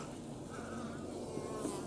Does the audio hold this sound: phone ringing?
no